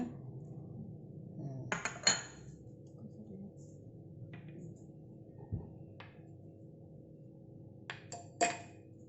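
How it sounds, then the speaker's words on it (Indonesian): Lemongrass stalks are bruised for pindang Meranjat, a few sharp knocks and clinks landing irregularly, moderately faint over a low kitchen hum. "Ini kita geprek aja serainya"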